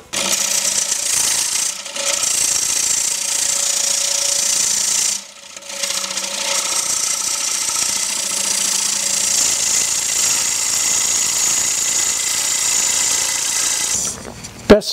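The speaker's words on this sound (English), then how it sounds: "It's at the right height to cut with a bowl gouge, but it's also at the right height to cut downhill with this scraper." A scraper cuts wood on a lathe while a candlestand tabletop is turned, giving a steady loud hissing, rasping drone with two short breaks, close and with no talking.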